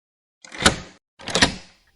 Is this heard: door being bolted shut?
yes